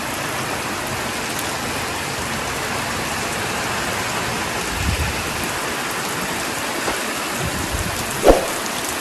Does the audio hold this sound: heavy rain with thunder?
yes